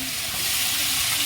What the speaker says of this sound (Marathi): आता मी दुधी चांगला धुवून परतायला टाकते.